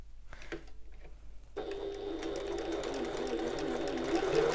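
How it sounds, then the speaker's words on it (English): A sewing machine back-stitches across zip tabs, switching on after a quiet moment and then running in a steady, close, rapid whir that grows slightly louder toward the end. "I'm back stitching at the start and the end."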